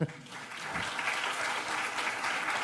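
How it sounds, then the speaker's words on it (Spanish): University presidential forum audience applauds the panelists, a continuous wash of clapping across the room, moderately distant. "Un aplauso, por favor."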